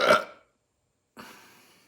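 A man lets out two burps, the first loud and short, the second after a brief silence, rougher and trailing off, both close and with no talking.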